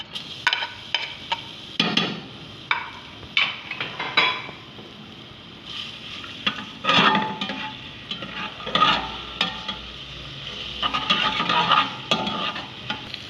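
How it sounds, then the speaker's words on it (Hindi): Garlic paste frying in three to four tablespoons of oil in a pot, stirred with a utensil, giving irregular bursts of scraping and clinking over a steady sizzle, close and fairly loud, with no talking. "अब हम दूसरे बर्तन में 3 से 4 टेबलस्पून ऑयल लेंगे, इसमें डालेंगे लहसुन का पेस्ट"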